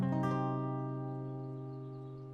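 A guitar diminished chord is strummed with a quick double stroke, then rings on its own and fades gradually, close and clear.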